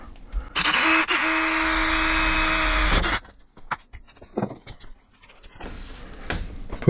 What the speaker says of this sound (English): Put this wood behind it just so I don't drill into this thing.